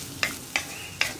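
Grated coconut roasts dry in a pan for a dried prawn and potato curry, with three crisp, separate spatula scrapes over a quiet, steady background hiss.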